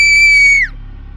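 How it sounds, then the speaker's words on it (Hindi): A girl, Anu, screams inside a cave in a Hindi horror story: one high, sustained shriek that slides downward in pitch and cuts off after about half a second, leaving a low dim rumble. "तभी उसे अनु की चीख सुनाई दी।"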